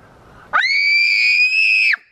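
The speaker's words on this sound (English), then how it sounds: "go on then, do your scream" A child in a forest lets out one loud, sustained high-pitched scream lasting over a second, close to the microphone, after a brief quiet lead-in.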